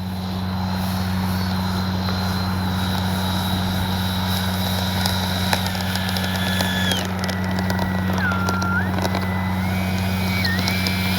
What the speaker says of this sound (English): Time to land the XFLY F-35.